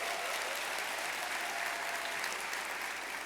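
An awards ceremony audience gives a thick, steady round of applause for the presenting sponsor, Suncoast Credit Union, many hands blending into a continuous roar at moderate volume.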